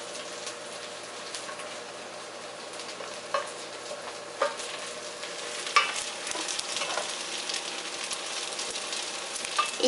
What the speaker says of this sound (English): Basically, you're stirring. That's all with the cooking oil. And syrup.